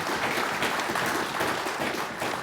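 An audience at an Urdu poetry evening applauds in a dense, steady patter of many hands that holds evenly from start to finish, with no voices standing out.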